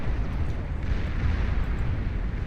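A commander unit explodes in the strategy game Beyond All Reason, giving a loud, rumbling blast that sustains as a dense roar of battle noise throughout.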